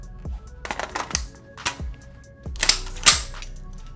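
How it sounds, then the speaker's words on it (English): Metal clicks and clacks of a 3- or 5-round box magazine being handled and seated into an M26 modular accessory shotgun, several sharp mechanical snaps spaced irregularly, close and alone. "We're going to have 3 and 5 round box magazines we're actually going to put in the weapon."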